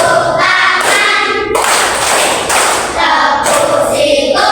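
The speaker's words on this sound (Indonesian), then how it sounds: "Tepuk situ, tepuk pundak, tepuk tangan" Children's clapping song with hands clapping and tapping in a steady rhythm, close and loud throughout, with chanting voices over the claps.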